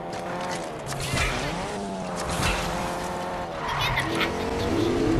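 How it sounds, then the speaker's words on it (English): Video game cars rev and skid loudly, engines surging in waves with tire screeches, while voices talk over the action. "Dude, I just got two kills with a car."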